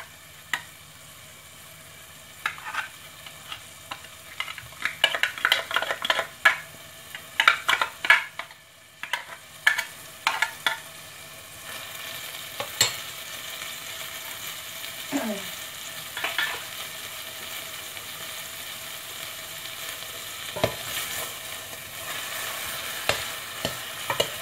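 Canned sardines in tomato sauce stir-fried with glass noodles, a continuous sizzle with irregular clusters of utensil clicks and scrapes against the pan, close and fairly quiet throughout.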